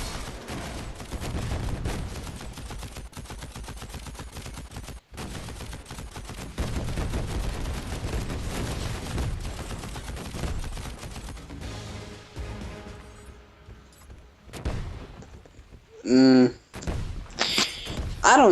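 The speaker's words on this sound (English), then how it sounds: "he's still shooting" Rapid bursts of robot gunfire from the mech combat game Robot Warfare, dense and continuous, with a few heavier thumps and louder impacts near the end.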